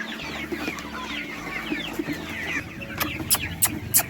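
Quail and chukar partridge chicks cheep in high bright peeps, mixed with clucking hens close by, fairly steady and busy.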